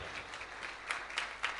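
Applause for Jesus during a sermon on his resurrection: a steady, fairly faint wash of many hands clapping with a few slight swells, and no voices over it.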